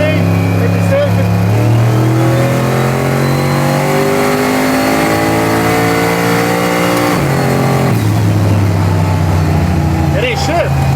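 A car with a 427 LSX engine and a big turbo revs and accelerates hard on a test drive, its loud engine note climbing in pitch, dropping at a gear change, then climbing again, with a voice talking over it.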